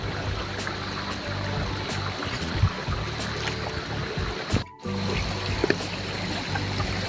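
Water trickles and streams steadily beside a hiking trail in the Margalla Hills near Islamabad, a continuous gentle flow with a few small knocks and one brief dropout.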